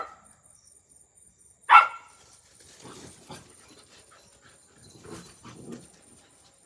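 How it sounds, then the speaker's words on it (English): A puppy kept for protection pants softly and lets out one short, sharp bark, then more quiet breathing and shuffling follow, heard fairly close in an otherwise quiet space with no talking. "He's a puppy, but he sounds scary as hell."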